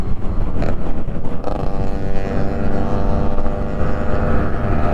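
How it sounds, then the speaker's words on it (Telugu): A Yamaha RX motorcycle's two-stroke engine drones steadily on the highway during a group ride, a loud, continuous rumble with harmonic buzz, heavily mixed with wind rush against the microphone. "ఈ సౌండ్ చూడండి గైస్, RX బైక్ సౌండ్."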